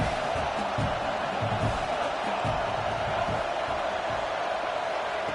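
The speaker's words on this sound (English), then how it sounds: "Third down and the crowd really getting into it." A football stadium crowd at a Michigan vs Ohio State game roars on third down, a dense, continuous wall of cheering and noise at steady loudness with no breaks.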